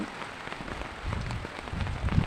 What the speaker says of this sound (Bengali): আপনারা শুনতে পাচ্ছেন কি শব্দ হচ্ছে বৃষ্টির